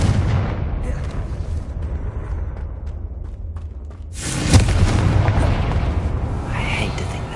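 A Confringo blasting spell bursts in Hogwarts Legacy, a single loud explosive hit about midway that rises out of steady game ambience and rumbles on afterward, with voices faintly present.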